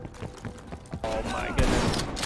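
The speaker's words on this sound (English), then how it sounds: "Fire shotgun! Flame on, baby!" A flame shotgun firing in Call of Duty Black Ops Cold War, rapid bursts and booming blasts that swell into a loud sustained roar, with someone speaking excitedly over it.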